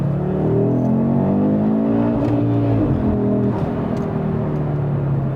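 A modified Audi RS3 with carbon styling launches and accelerates hard, its engine loud and close as the revs climb through rising gear pulls with a steady roar throughout.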